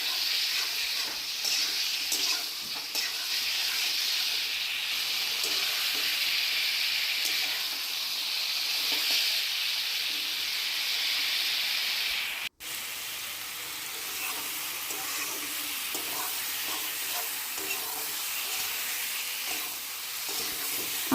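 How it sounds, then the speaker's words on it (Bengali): Chili paste sizzles steadily in hot oil while being sautéed for a koi fish curry with potato and cauliflower, a continuous close frying hiss with stirring scrapes, broken by one brief cut midway. "তারপর এর মধ্যে অল্প লঙ্কা বাটা দিয়ে দিলাম, দিয়ে আবারও ভালো করে সাঁতলাতে হবে।"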